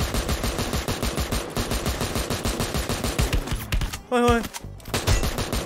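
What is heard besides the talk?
AN94 gunfire in Free Fire video game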